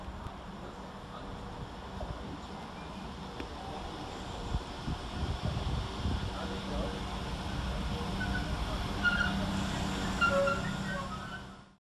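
A West Midlands Railway class 172 diesel unit, 172337, pulls into Cradley Heath station with a low, building rumble under wind noise, and brake or wheel squeal rises toward the end.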